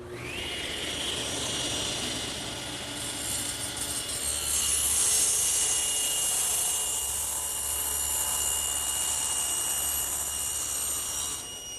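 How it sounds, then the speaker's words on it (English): A hand saw works steadily through a wooden board being cut for a bookcase, giving a continuous rasping drone throughout. "that'll give me a guide to start through the saw blade. And again, I'm going to cut it a little long"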